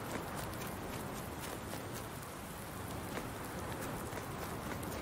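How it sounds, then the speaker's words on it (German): Steady rain pouring in the farming game Landwirtschafts-Simulator 19, a dense continuous hiss of drops on surfaces at even loudness throughout, with no talking. "Boah, dieser Regen."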